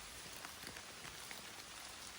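Rain falling in a forest, a soft, steady patter of drops on leaves and ground, faint and even throughout with no voices.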